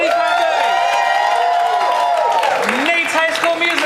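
A studio audience applauds and cheers in a sustained roar, with whoops rising above the clapping, while a voice speaks over it.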